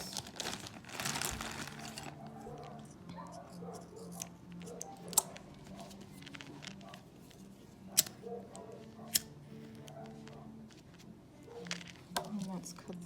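Scissors make a few sharp, isolated snips as they cut super bulky velvet yarn, quiet against soft handling rustles and low talk.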